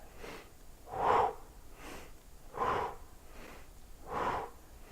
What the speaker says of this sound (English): we're just going to breathe in through our nose, extend our chest out, breathe out, suck it back